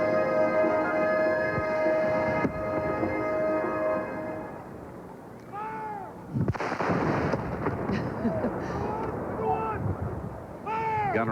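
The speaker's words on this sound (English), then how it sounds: "We're watching the cannon go off on television and hearing the boom behind our ear." Ceremonial cannon fire at the 1994 Commonwealth Games opening ceremony in Victoria, Canada, with a few heavy booms rolling over a noisy outdoor stadium crowd and band music, under a commentator's talk.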